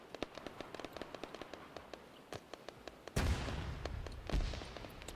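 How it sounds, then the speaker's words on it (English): Arma 3 multiplayer combat: a string of faint distant pops and shots, then a sudden heavier rumbling blast with more cracks following, fairly quiet overall. "A lot of explosives going by."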